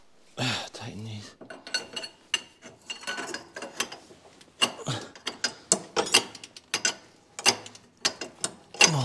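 A hand ratchet works bolts on the suspension of a Mercedes C124 AMG, giving close, loud bursts of rapid clicking with metallic clinks between them, alongside a voice.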